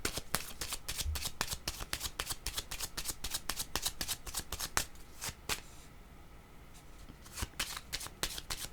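Tarot cards being shuffled by hand, a quick series of crisp riffling flicks and slaps in rapid irregular rhythm, close and fairly quiet, with a brief pause before the shuffling resumes.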